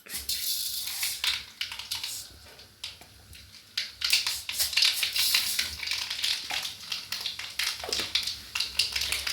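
Mustard seeds spluttering in hot coconut oil, irregular crackling pops and spits over a soft sizzle, close and fairly quiet.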